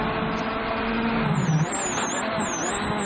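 Ford Fiesta rally car on a gravel stage in a bleak landscape, engine droning steadily close by with a brief surge midway, under wind-like noise.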